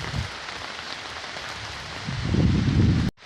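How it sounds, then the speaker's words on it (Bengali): Heavy monsoon rain pours steadily onto a banana grove, a dense broadband wash that swells louder near the end before cutting off abruptly. "তো দেখতে পাচ্ছেন মুষলধারে বৃষ্টি হচ্ছে"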